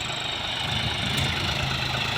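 A diesel tractor, working at laser land leveling, idles steadily nearby with a continuous, even engine rumble and no pauses.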